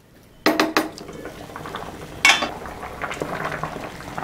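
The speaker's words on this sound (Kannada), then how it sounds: "ತರಕಾರಿ ಚೆನ್ನಾಗಿ ಬೇಯ್ತಾ ಇದೆ ಬೇಳೆ ಟೊಮೊಟೊ ಜೊತೆ" Vegetables simmering with dal and tomato in a pot of home-cooked sambar, with sharp clinks of a metal spoon or ladle against the pot over a steady, soft bubbling hiss that runs throughout.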